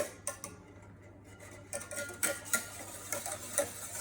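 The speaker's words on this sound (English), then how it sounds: "mix that through perfectly or properly, not perfectly" Utensil stirring and scraping ingredients in a mixing bowl while preparing piragi dough, a series of light clinks and scrapes that grow louder and more frequent toward the end, with no talking.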